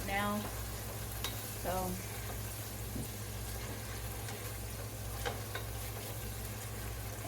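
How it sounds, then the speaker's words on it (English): Onions and garlic frying in a pan, a steady soft sizzle with occasional clinks of a utensil, fairly quiet and close, with a few brief words spoken over it. "the garlic is browning in the pan"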